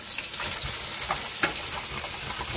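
Smoked bones frying in oil in a pot for Dominican red bean sancocho, a steady broadband sizzle with a few soft stirring knocks, close and alone.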